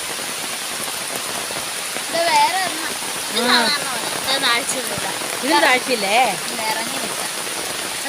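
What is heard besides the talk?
heavy rain falling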